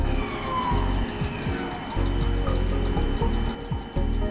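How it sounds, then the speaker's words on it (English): A police car drives past fast with its siren on. A loud, steady roar of road and engine noise fills the clip, with a thin siren tone sweeping faintly through it. "That was a cop car going by, and it was going by super fast."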